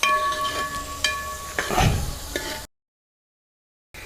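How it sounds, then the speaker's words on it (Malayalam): Sliced onion being stirred and sautéed with salt in a pan for masala macaroni, with soft sizzling and scraping spoon strokes close by, ending abruptly in silence. "നന്നായിട്ട് ഇളക്കി കൊടുക്കാം."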